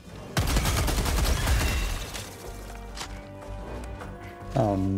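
Heavy orbital barrage and gunfire in Helldivers 2 on an extreme-difficulty solo mission: a dense, continuous rattle of shots and blasts, with a sharp impact near the end and a brief voice.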